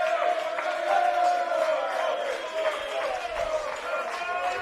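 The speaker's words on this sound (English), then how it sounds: "Koko comes off to a raucous applause from the home crowd" Home crowd at a Sydney United 58 FC versus Blacktown City FC men's football match, sustained cheering and voices roaring at a distance as a substituted player leaves the pitch, steady and loud throughout the clip.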